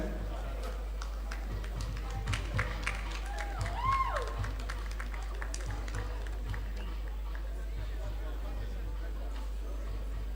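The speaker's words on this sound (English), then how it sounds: "Please put your hands together for them." Scattered clapping from an audience rises and falls over a steady low hum, with a brief voice rising above it near the middle.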